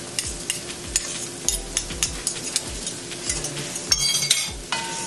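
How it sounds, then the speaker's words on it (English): Onions sizzle in a pan as a utensil stirs and scrapes in repeated close strokes, with light clinks of metal against the pan and no voices. "Stir my onions."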